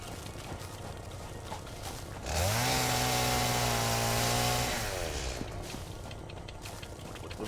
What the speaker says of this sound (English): the sound of this chainsaw got very old very quickly